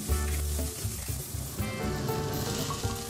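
Chopped parsley stems and capers sizzle in a pan for a mussel dish in white wine and tomato sauce, a soft continuous frying hiss with stirring scrapes, under a low background hum.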